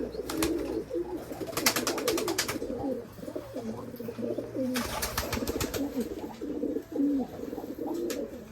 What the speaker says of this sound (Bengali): আমার এখানকার কবুতর দেখতে পাচ্ছেন